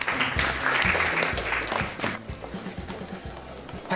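A round of applause from a group in a school, steady clapping, loud at first and then thinning, with crowd noise mixed in.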